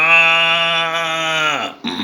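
A man imitates a cow lowing from a cowshed at dawn with one long, steady, low-pitched moo, loud and close, that trails off before a short breath.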